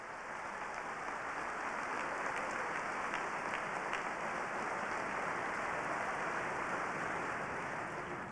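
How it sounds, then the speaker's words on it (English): A graduation audience at the Edina High School 2001 ceremony breaks into dense, sustained applause, a steady wash of many hands clapping at even loudness for the whole stretch, with no distinct voices standing out. "Yes, we can cheer."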